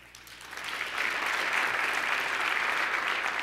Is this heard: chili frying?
no